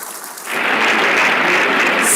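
At a celebration of former Nigerian head of state Yakubu Gowon's 90th birthday, a loud burst of applause swells in after a brief quieter moment, then holds as a dense, continuous roar of clapping from a large crowd.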